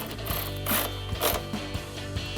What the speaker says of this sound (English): I'm going to tighten down that 13 mil bolt first with a 13 mil socket